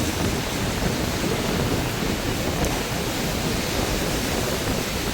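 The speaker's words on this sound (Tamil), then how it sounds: "ஆனால் காற்று வந்து வீசிக்கொண்டிருக்கிறது" Strong stormy wind roars steadily in a broad, loud, unbroken rush with no gaps, as a cyclone batters the Jaffna coast in Sri Lanka.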